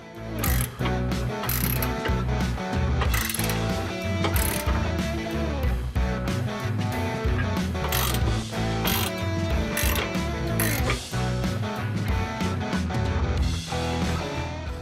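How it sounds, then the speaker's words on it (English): A ratchet wrench removes two 24 mm nuts from the driver's side rear bumper of a pickup truck during a retractable bed step installation, clicking rapidly and continuously, loud and close, with no speech. "We've got 2 nuts that we're going to take off first. These are 24 millimeter."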